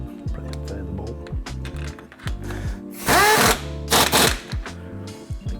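A power tool runs a bolt into a Harley-Davidson Dyna front fork fitted with Legend AXEO suspension, two short whirring bursts that climb in pitch, close and loud over a steady low background hum.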